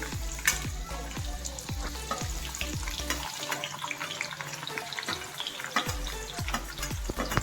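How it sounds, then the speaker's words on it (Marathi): Finely chopped onion sizzles in a cumin tempering in a pan, a continuous crackling fry with repeated knocks of a spoon stirring throughout, moderately quiet and close. "त्यानंतर बारीक चिरलेला आपण कांदा टाकूया."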